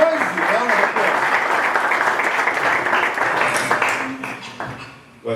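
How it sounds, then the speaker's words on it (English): A church audience at the official launch of a charity gives a sustained, dense round of applause that carries on steadily for several seconds with voices mixed in. "Dr. Bonny Cheyip, can I have a really big round of applause?"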